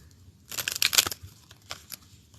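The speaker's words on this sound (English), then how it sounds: "Okay, I already knew that was coming through. Let me shuffle." Quick crisp riffling and slapping of tarot cards being shuffled, a burst of soft snaps, then a few scattered light flicks as cards fly out.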